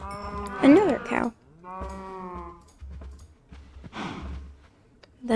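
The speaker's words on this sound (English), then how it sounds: "Another cow." Minecraft cows moo in a couple of drawn-out low calls, fairly close, with a short pause between them and a quieter shuffle of game noise in between.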